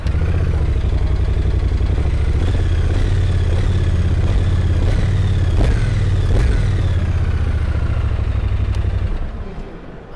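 A Cromwell 1200 neo-retro motorcycle at a motorbike show starts up close by and revs several times over a deep, loud idle before the engine shuts off near the end.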